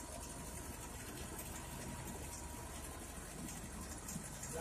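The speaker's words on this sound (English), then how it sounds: "This one getting more vibration. Why? The Detroit engine." A 1995 Gillig Phantom bus with a Detroit diesel engine idles with a steady, low rumbling drone and constant vibration, unbroken and moderately distant.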